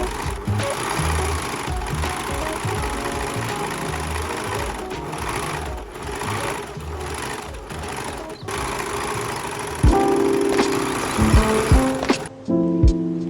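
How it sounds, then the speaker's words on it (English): A sewing machine lock-stitches a kimono sleeve dress, humming and rattling steadily up close for most of the stretch, then a few short bursts and clicks as it stops and restarts. "And do the lock stitching"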